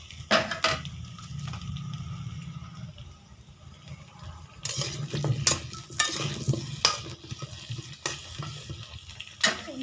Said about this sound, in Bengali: প্রথমে আমি মাংসের আলুগুলো ভেজে নেব।